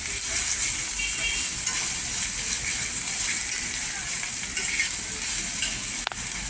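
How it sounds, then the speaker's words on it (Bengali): Onion frying in a pan for a prawn dish, a steady, fairly loud sizzle with occasional stirring scrapes throughout, a brief sharp knock near the end. "যদি একটু কম আছে পেঁয়াজটা আমি ভেজে নিচ্ছি"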